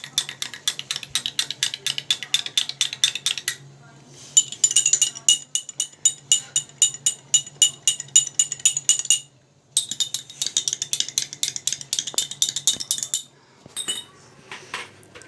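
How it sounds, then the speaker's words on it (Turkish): Spoons stir Coca-Cola, cherry juice and Fanta in glasses during a bleach experiment. They make rapid, rhythmic metallic clinking against the glass in several bursts with short pauses between. "Şimdi karıştırıyoruz."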